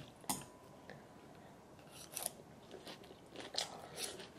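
A bite into a crunchy salad is followed by faint, close crisp crunching and chewing in a few small bursts, quiet overall with no talking.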